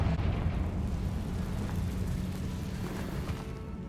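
A deep, rumbling blast from the Confringo blasting spell in a Harry Potter video game, a broad explosive roar that swells and slowly fades, heard alone without talk.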